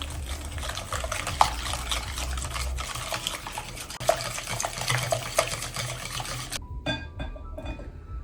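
Eggs whisked with salt and vanilla sugar for a sugar-pie batter, a continuous close wet stirring and sloshing in a bowl with occasional utensil clinks, stopping abruptly near the end.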